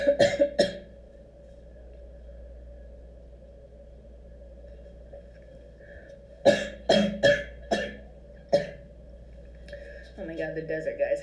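A person coughs and clears their throat several times in close, loud bursts, with quiet stretches between, and some speech and rustling near the end.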